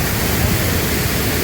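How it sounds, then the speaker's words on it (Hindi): A fast, swollen mountain river along the Kedarnath trekking route roars in a steady, loud, broadband rush with no breaks, close by and alone. "पानी देख लीजिए, बहाव बहुत ही तेज है"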